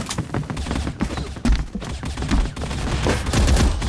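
A G36C rifle firing in the mobile shooter game Bullet Angel, a loud dense stream of rapid automatic shots running continuously with heavy low thumps throughout.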